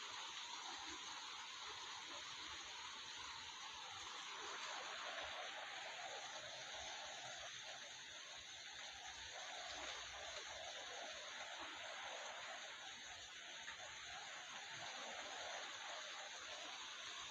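Heavy rain falls steadily during a windy Thai downpour, a dense, even hiss of drops that continues unbroken for the whole stretch.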